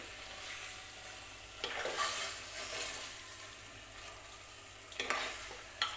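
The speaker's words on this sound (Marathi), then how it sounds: "व्यवस्थित तेलामध्ये मिक्स करून घ्यायचं आहे मटण जे आहे ते" Mutton pieces are stirred in hot oil over high heat for biryani, a continuous sizzle of frying with a few louder scraping stirs of the spoon breaking through near the start and end.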